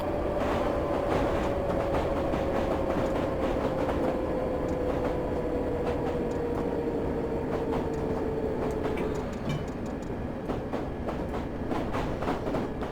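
London Underground S-Stock train in Train Simulator 2018 passing close by with a steady rumble, a slowly falling whine and rapid clicking wheel beats, loud throughout the whole stretch.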